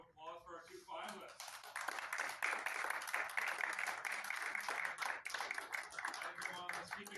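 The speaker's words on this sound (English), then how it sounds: "Can we give a round of applause for our two finalists?" A crowd at a snooker tournament's championship final applauds the two finalists, the fairly faint clapping rising after a brief voice and continuing steadily.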